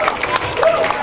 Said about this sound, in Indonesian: tepuk tangan dong untuk semeton Sinarang Sami